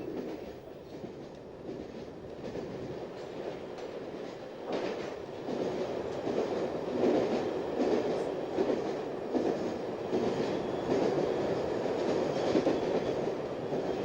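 A Q6 steam locomotive shunting coal hopper wagons rumbles steadily nearby with rhythmic clanking and clattering of wagons, the noise building and holding loud throughout.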